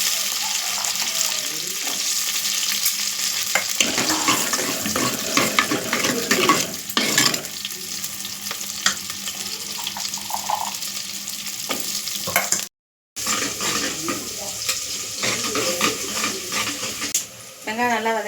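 Small shallots fry in hot oil with fenugreek for a stingray fish curry, giving a close, continuous sizzle broken by repeated scraping and clinking of a spoon stirring in the pan, with one brief dropout near the end.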